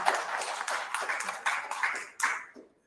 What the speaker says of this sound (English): let's give a warm hand of applause to Advocate Dion Reuters